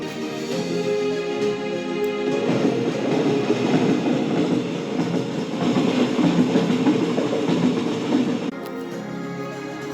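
A Vande Bharat passenger train rolls along the track with a continuous, fairly loud rumble and faint rhythmic wheel clatter, with no talking, easing slightly toward the end.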